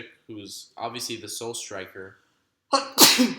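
A single loud sneeze bursts out at the end, after a stretch of calm spoken commentary about football tactics.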